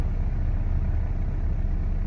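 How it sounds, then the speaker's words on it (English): A hospital car's engine runs in a parking place, giving a steady, close, low rumble that holds evenly throughout with no one speaking. "sound because this is the hospital car. It's not my car."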